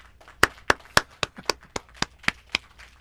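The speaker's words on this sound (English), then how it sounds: "Give yourself one of those applause" Sparse applause from a handful of people on a live podcast stream, about a dozen sharp, separate claps in loose rhythm, close and distinct against a quiet room.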